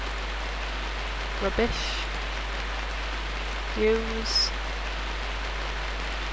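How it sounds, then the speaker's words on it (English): Steady rain pours down in a night-time alleyway in the Dreamweb game, a constant hiss that fills the scene while someone speaks briefly over it. "God, when will it ever stop raining in this game?"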